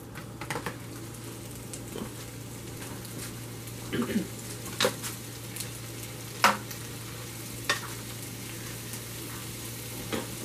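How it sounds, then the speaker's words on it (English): Chopped kielbasa sausage going into a pan with bacon for southern fried cabbage, giving a steady low sizzle with scattered clicks and pops of stirring, close and moderate, without talk. "I'm going to add in my sausage that's been chopped."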